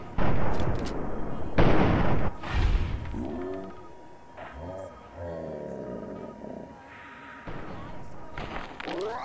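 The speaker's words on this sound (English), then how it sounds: "Let's shoot this raider here a bit." Gunfire in Fallout 3 as a raider is shot: several loud, sharp reports in uneven bursts, each with a booming tail, mixed with a creature's roar and in-game voices.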